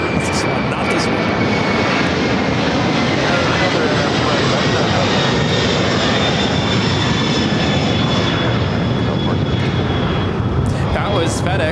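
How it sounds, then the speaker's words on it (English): A FedEx Boeing 767 takes off at LAX, a loud, continuous jet engine roar that fills the whole stretch, with people talking over it. "That was FedEx Flight 1100 taking off to Fort Worth on the 767 named McKinley"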